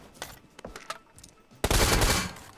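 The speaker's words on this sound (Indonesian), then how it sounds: "Oh temennya nembakin bro." Gunfire in PUBG Mobile: scattered distant shots are followed by a loud, sustained burst of rapid automatic fire close by, with no talking over it.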